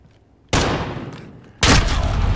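Semi-automatic gun fired in a video game, two loud abrupt bursts of shots about a second apart, each with a long rough tail.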